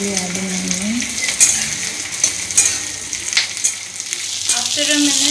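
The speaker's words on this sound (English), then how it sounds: "chili and the garlic. Now I'll be adding onions." Onions sizzle and fry with chili and garlic in a hot pan, a steady hiss broken by several sharp clinks and scrapes of a utensil stirring, with a brief low voice near the start.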